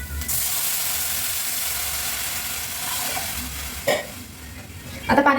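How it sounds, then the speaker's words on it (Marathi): Water poured into a hot pan while making Maggi noodles, giving a steady loud sizzle that fades slightly, with a few clinks and stirring scrapes near the end. "आता आपण टाकूयात पाणी।"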